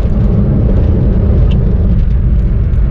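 A 2016 Honda Brio cruising on a road, heard from inside as a loud, steady rumble of engine and road noise without talking.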